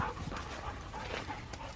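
A dog racing around an open field outdoors, with brief yips, whimpers and panting close by over a steady rough bed of outdoor noise.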